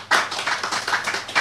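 Quiz show studio audience clapping and cheering for a contestant, a short burst of brisk, uneven hand claps starting abruptly and continuing at a moderate, close level.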